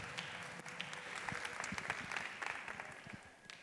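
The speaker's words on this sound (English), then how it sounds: "let's give the Royal Blues a hand clap for their performance as well as the Highland Park Concert Band" An audience applauds the Royal Blues and the Highland Park Concert Band at a school district Juneteenth celebration, a steady wash of clapping with scattered sharper claps, moderately distant and without talk.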